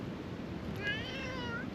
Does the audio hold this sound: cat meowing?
yes